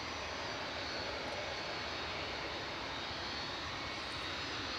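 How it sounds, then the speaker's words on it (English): A Boeing 757 jet departs Manchester Airport, its engines a constant loud, broad roar that holds steady without a break. "This is our fourth 757 departure of the day, potentially two more."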